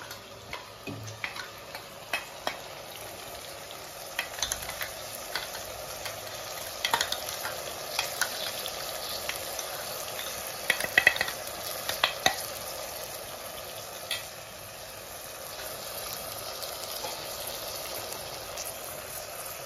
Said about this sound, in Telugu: ఒకసారి ఆయిల్లో ఒక 2 నిమిషాలు అట్లా ఫ్రై చేసి